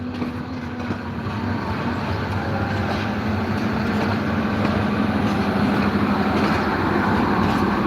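A train pulling out on its way to Rajshahi gives a loud, steady rumble of wheels and engine that holds throughout, close by, with no voices.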